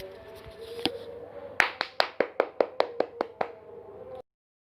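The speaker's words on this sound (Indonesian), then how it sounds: "mari beri tepuk tangan kepada Zahra" A classroom briefly applauds a student named Zahra during a chemistry lesson: about a dozen distinct, fairly close claps in a short, uneven run, then an abrupt stop.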